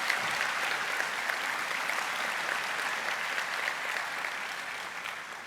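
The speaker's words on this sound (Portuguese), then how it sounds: "Pode aplaudir." Audience applause after a talk on Spiritist literature, a dense, steady patter of many hands clapping for several seconds, fairly loud and sustained before easing slightly at the end.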